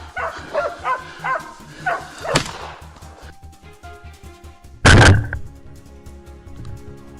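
Hunting dogs bark at wild boars in a quick series of close yelps and barks with a loud crack partway through, then one heavy blast near the end, mixed with background noise.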